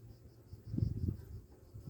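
Low, steady buzzing of many honey bees close at an open hive, swelling briefly in the middle, with no talking.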